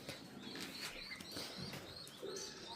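High flyer pigeons coo softly with a flutter of wings nearby, several gentle calls and chirps rising over a quiet background with no talking.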